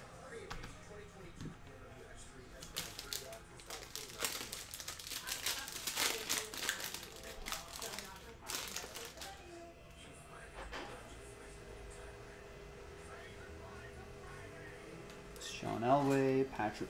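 Panini Donruss Optic football card filler packs being torn open and handled, crinkly foil rips and rustling with occasional thumps over a long stretch, faint and close, ending in a louder burst of handling.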